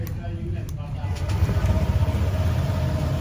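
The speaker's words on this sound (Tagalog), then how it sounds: "Cold start lang natin to." A motorcycle engine idles through a cold start, a low steady rumble that grows slightly rougher and louder partway through, with a voice speaking over it.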